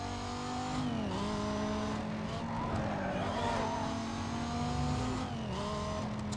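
A car engine revs and shifts gears while racing in Need for Speed: Most Wanted, a steady close drone that rises and drops with each shift, with brief tire squeals and whooshes of passing traffic.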